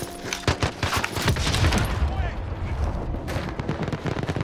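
Dense, continuous gunfire fills a match of the video game Call of Duty Warzone, with rapid overlapping shots and bursts that are loud and close, rattling without pause from start to finish.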